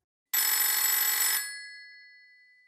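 A telephone bell rings once in a single loud, bright burst about a second long, then fades away slowly into silence.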